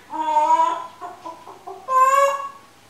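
An African grey parrot imitates a hen's clucking, giving a few drawn-out, tonal clucks and short broken notes, close and clear with no talk.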